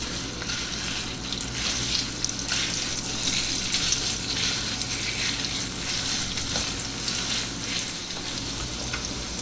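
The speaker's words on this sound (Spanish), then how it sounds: "Ya que calentó, agregamos el chorizo." Chorizo frying in hot oil in a skillet for eggs with chorizo, giving a steady, dense sizzle with soft crackles that runs throughout, close and even, with no talking.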